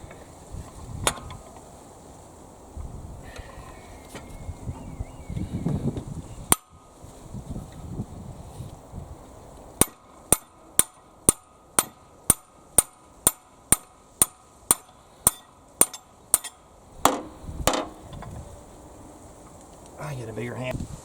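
Sharp metal hammer blows strike near a 2000 Chevy Blazer 4.3L V6 during water pump removal, first a few scattered hits, then a rapid run of about fifteen evenly spaced loud whacks, with someone talking in between.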